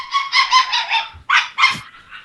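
A dog barking nearby in a run of loud, quick yaps, with a short pause, then two more sharp barks and a softer trailing whine, heard alone without talk.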